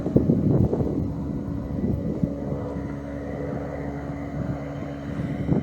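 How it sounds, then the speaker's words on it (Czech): A vintage aircraft nicknamed Dědek circles overhead, a steady low engine drone in the distance with wind buffeting the microphone throughout; no voices. "Veterán, letadlo zvané Dědek, které to má i v triangulačních znacích, opisuje okruh"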